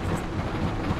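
Rain and rolling thunder in the video game Sable, a brief, dense, steady rumble with a hissing wash of rainfall throughout.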